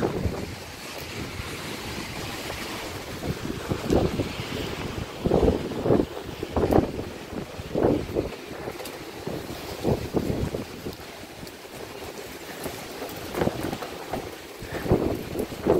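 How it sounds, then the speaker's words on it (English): Strong gusts of wind roar and buffet the microphone continuously, with surging bursts over a steady rushing background. "It's really windy."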